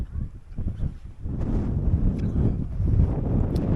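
Steady wind buffets the microphone outdoors, a continuous low rumble with gusty swells and no one speaking.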